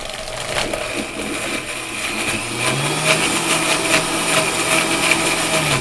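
A Vitamix blender churns a creamy cilantro sauce in a kitchen, a steady loud motor whir with a pitch that rises and settles as the thick mixture is pushed down and brought together, running continuously throughout.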